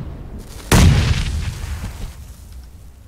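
A single frag grenade blast in a video game, a sudden heavy boom that rolls off slowly over a couple of seconds, with no talk.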